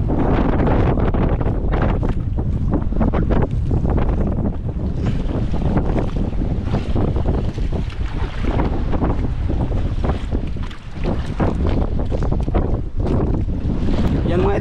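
Strong amihan monsoon wind at sea roars and buffets a microphone on a small fishing boat, a loud, continuous rush with waves churning underneath throughout.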